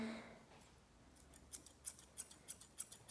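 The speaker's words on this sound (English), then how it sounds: "We're going to continue to the back of the ear, just trimming all that extra." Scissors trimming fur on the back of a Nova Scotia Duck Tolling Retriever's ear, about eight crisp, close snips in a fairly even rhythm after a faint opening murmur.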